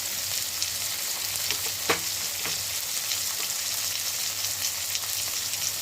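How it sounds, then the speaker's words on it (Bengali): Ginger garlic paste dropped into a hot pan, frying with a steady, close sizzle and a few soft stirring scrapes, for a winter cauliflower and egg curry. "প্রথমে দিচ্ছি আদা রসুন বাটাটা"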